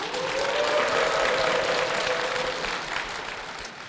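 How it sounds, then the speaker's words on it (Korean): Korean church congregation clapping to welcome a deaconess to the front, a dense steady patter of many hands with a faint voice underneath, easing slightly toward the end. "정경순 권사님 박수로 모시겠습니다"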